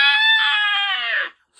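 A ghost phoenix's shrill, harmonic-rich screech rings out close and loud as one long sustained cry for over a second, wavering slightly before cutting off into silence; it sounds like a voice imitating the bird.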